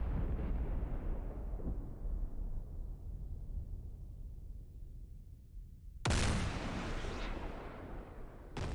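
A 2000 lb JDAM bomb explodes in the DCS combat flight simulator: a deep rumbling blast tails off slowly over several seconds, then a second sharp, loud detonation follows, heavy and booming.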